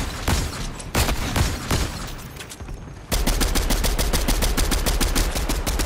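Video game gunfire comes as rapid automatic bursts: first a few scattered shots, then after a brief dip a dense, loud, evenly spaced stream of rounds that lasts to the end.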